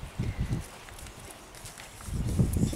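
Hooves of a newly broken chestnut working horse with four white socks thud softly on dirt, a few steps at the start and again at the end, fairly close with quiet ground noise between.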